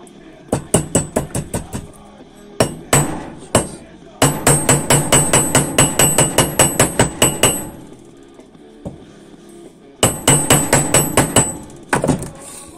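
Hammer blows land on a homemade fretsaw blade, sharp metallic strikes in quick rhythmic bursts with short pauses between runs, close and loud.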